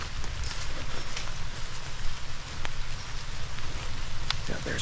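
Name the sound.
heavy rain falling outdoors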